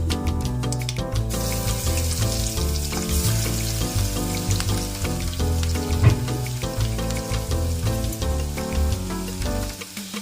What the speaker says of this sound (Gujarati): હવે લસણને એકદમ સારી રીતે સાતળવા દઈશું.